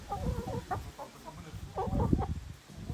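A hen clucks softly in short broken phrases, close by, over a low rumbling background.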